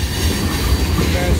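Train wheels squealing as railcar trucks take a curve near the Hoosac Tunnel, a loud, continuous grinding screech over heavy rumbling rolling stock, steady throughout.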